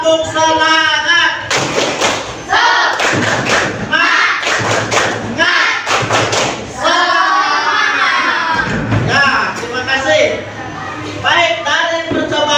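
A classroom of students performs a rhythmic spirit clap together, bursts of loud, patterned clapping and thumps mixed with children's shouting voices, repeating in quick sets across several seconds.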